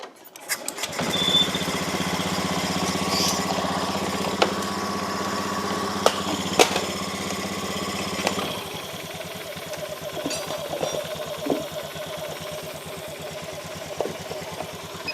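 A broken-down motorcycle engine catches after repair and runs steadily, a loud continuous buzzing idle with a low pulsing drone that drops and settles about eight seconds in, punctuated by a few sharp clicks and knocks nearby.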